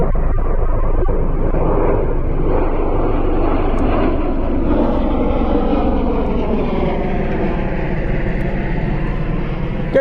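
A military jet roars past high and fast over RAF Mildenhall during an airshow, a continuous loud broadband rush with a slowly shifting pitch that fills the whole stretch.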